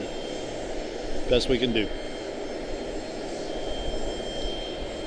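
Jet airliners arrive at Charlotte-Douglas International Airport, a steady distant engine roar under a voice that talks briefly near the start.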